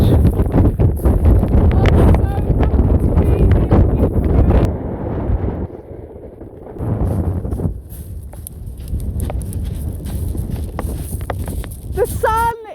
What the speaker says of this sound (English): It's just a little bit blustery at the end here on Dungeness Beach.